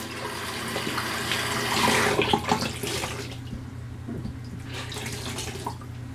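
Tap water runs steadily from a faucet during a cold water rinse after a razor shave, a continuous close splashing flow that swells briefly midway, with no talking.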